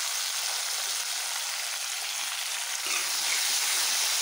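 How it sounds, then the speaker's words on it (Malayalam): Chopped tomato and onion fry in a pan as the base for a fish curry, a steady bright sizzle that swells louder partway through, with no talking. "ഈ തക്കാളി ഇങ്ങനെ മൂത്ത് വരട്ടെ."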